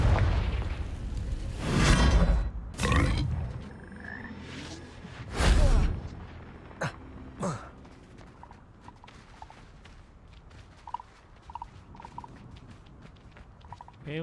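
Confringo explosion spell blasts in a video game, a few loud booming bursts in quick succession near the start and middle, then quieter scattered effects and faint tones.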